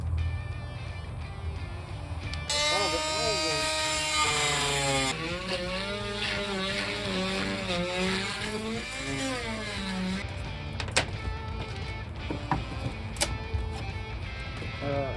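A power tool cuts through the fiberglass floor and plywood of a vintage Ford RV, a loud, close, rising and falling whine for about ten seconds, then quieter handling with a few sharp knocks.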